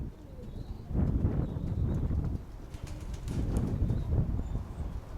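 Pigeons cooing while waiting to be fed, low soft coos swelling in waves close by, with occasional shuffling and flutter of wings.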